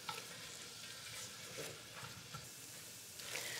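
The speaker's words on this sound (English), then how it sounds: "So we've got our onions to a beautiful brown, lovely sizzle, amazing smell." Steady frying sizzle from onions browning in a hot pan, a continuous crackling hiss with occasional stirring scrapes, close and moderately loud.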